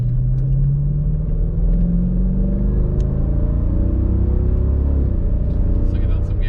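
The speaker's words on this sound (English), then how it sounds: "A little bit of engine noise." A 2015 Jeep Grand Cherokee SRT engine hums steadily with a low rumble, its pitch slowly climbing as it revs under acceleration, heard from inside the vehicle with a drop near the end.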